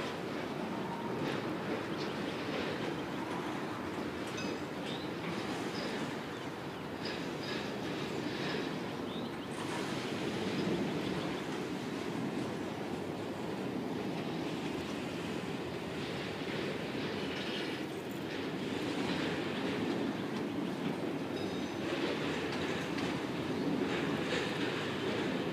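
A Norfolk Southern freight train hauling a long mix of autoracks, including Conrail and CSX racks, rolls past in a steady, continuous broadband rumble and rattle of cars, with no talk.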